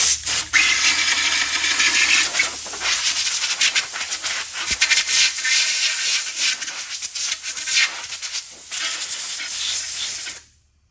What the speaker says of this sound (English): I just sprayed it down with brake cleaner again and blew it all out.